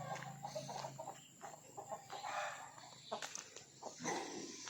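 Farmyard chickens clucking: faint, scattered clucks and squawks from several birds in a quiet outdoor pen, coming in short irregular bursts.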